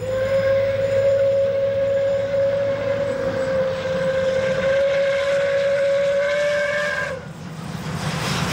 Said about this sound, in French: la locomotive sortant de révision effectue une marche de rodage pour vérifier tous ses organes